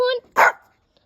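A dog named Milo gives a single short bark right after a person's brief speech-like vocal. It is close and moderately loud, and silence follows.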